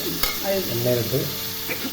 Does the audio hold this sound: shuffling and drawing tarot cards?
no